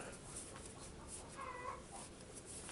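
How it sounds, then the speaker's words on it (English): A hen cackles in a short series of clucks at moderate distance, over a steady hissy background with no voices. "Hen's cackling."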